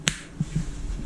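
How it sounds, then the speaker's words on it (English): A single crisp finger snap cracks right at the start, close and sharp, followed by a few faint soft taps in a quiet room. "I'm gonna snap my fingers"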